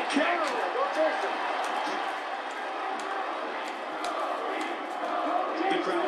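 A packed arena crowd roars steadily in support of MMA fighter Takanori Gomi during his bout with Kai, a dense, continuous wall of cheering with scattered shouts and sharp accents rising above it.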